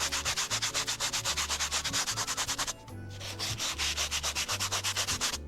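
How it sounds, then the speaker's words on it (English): A foam pool noodle rubs soft chalk pastel across a driveway surface, making a steady run of quick, loud scrubbing strokes with a brief pause midway. "Using my trusty pool noodle, I blend everything together."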